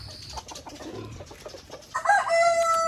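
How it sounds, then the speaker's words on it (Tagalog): Giant Rhode Island Red chickens cluck softly in a pen, then a rooster crows loudly and clearly near the end, drawn-out and close. "Rhode Island Reds naman tayo."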